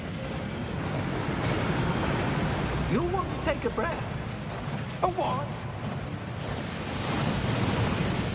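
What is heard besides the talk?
waterfall (Thief's Downfall) in a Harry Potter video game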